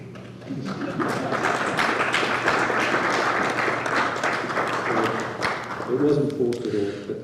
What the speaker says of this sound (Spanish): No fue un aplauso forzado para nada